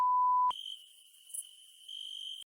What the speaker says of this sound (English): That's the crickets not giving a crap.